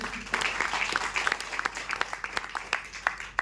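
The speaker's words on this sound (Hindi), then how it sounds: "एक बार जोरदार ताली चाहिए जितेंद्र सर के लिए" Audience applause at a health foundation program gathering, a dense wash of many hands clapping with distinct nearby claps punctuating it, continuing steadily for a few seconds.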